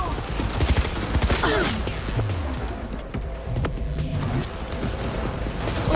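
Rapid bursts of gunfire and mechanical weapon clatter in the video game Cyberpunk 2077 Phantom Liberty, dense and loud at first, then easing into sparser shots amid game noise, with a voice talking over it.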